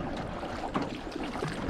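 Steady splashing and rushing water with low wind noise as a small canoe is paddled across open water, with no voices.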